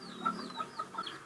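Chickens clucking softly in a coop, several short repeated calls spaced about a quarter-second apart over a low background murmur, fairly faint and close.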